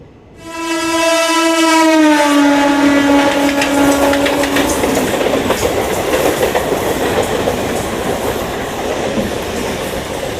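A train horn sounds loudly at first, then a passenger train from Chennai Central to Siliguri rumbles steadily along the rails with a continuous rolling clatter, approaching Andul railway station.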